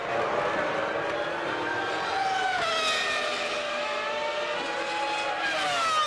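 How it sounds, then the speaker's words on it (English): Formula One race cars at the 2000 Hungarian Grand Prix scream past with high, whining engines. One loud, continuous engine note shifts in pitch as cars pass and change gear, with no voices. "Mika Häkkinen has lapped the Sauber now"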